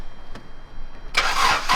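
A Honda car engine starts with a sudden loud broadband burst after a quiet lead-in, then settles into a rough, burbling run close by, with no talk over it.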